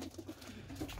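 Racing pigeons at a loft coo in a quick series of soft, low, throaty calls, close by and continuous through the whole second, with no talking.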